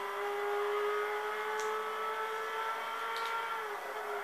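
A Peugeot 206 S16 race car engine in Gran Turismo 6 holds a steady, high-pitched whine at near-constant revs, loud and close, with a couple of brief faint clicks.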